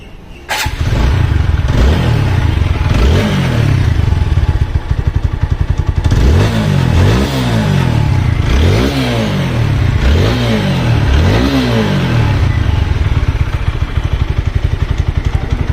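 A second-hand TVS Apache 4V ABS motorcycle with about 6,086 km on it starts, then idles loud and close before a series of sharp, repeated throttle revs that rise and fall in rhythm, with no talk.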